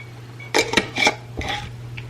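Glass jars of pork broth set into a metal canner, giving a few distinct clinks and clatters: two quick knocks, a louder rattle, then a softer clink, close by and alone over a low steady hum.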